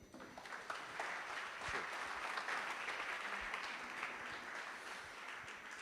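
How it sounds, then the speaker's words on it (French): A crowd at an awards ceremony applauds a cycling team, and the clapping sounds fairly faint and distant. It builds quickly and then holds a steady, even patter for several seconds. "Je vous demande d'applaudir l'As de cœur vélo."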